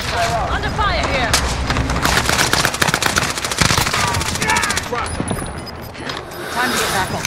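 Video game gunfire rattles in loud, dense, rapid bursts almost without pause, close and continuous throughout, with some voices mixed into the battle noise.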